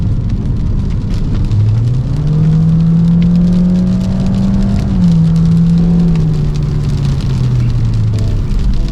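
A Honda HR-V hybrid speeds up steadily, its engine note rising and falling in stepped pitch like simulated gear shifts, heard loud and close from inside the car with a constant road rumble and no talking.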